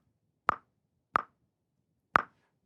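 Logic X metronome set to 7/8 time, giving three crisp isolated clicks spaced unevenly, alone in silence.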